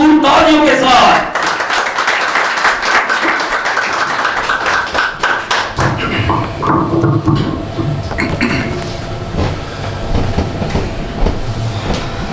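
A congregation at an Urdu-speaking church in Sohar, Oman breaks into loud, sustained applause, dense clapping that fills the room and continues under a voice before easing off.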